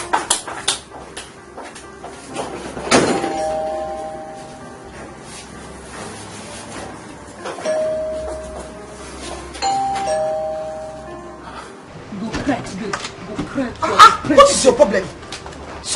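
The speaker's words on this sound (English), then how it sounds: "Why are you pressing the house bell like that?" A house doorbell pressed repeatedly, several ringing tones spread across the stretch amid background noise, with laughter and chatter building toward the end.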